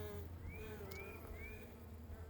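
Honey bees buzz around a nuc hive during installation, a faint, steady droning hum with several rising whines as single bees fly close past.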